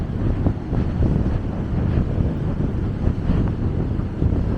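Wind blows on a Dutch beach on a cold spring day. The gusts buffet the microphone steadily and loudly with a low rumble, and the surf may be faintly audible beneath.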